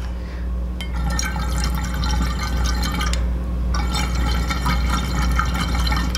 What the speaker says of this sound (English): it bubbles like a traditional hookah.